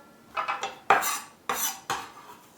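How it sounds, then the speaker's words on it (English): Chopped vegetable pieces drop into a bowl in a few distinct clattering knocks and scrapes, close by and fairly crisp, with no voices over them. "so I'm just going to place these into the bowl"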